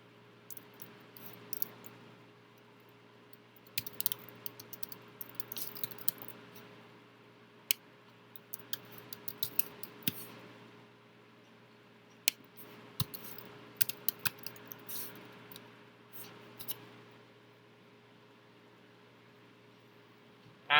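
Code is typed on a computer keyboard in irregular bursts of light keystrokes with pauses between them, fairly quiet over a steady low hum.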